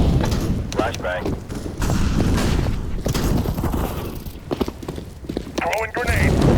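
A flashbang grenade goes off in a video game, a sharp burst among ongoing game noise with a second bang near the end, while a voice speaks over parts of it.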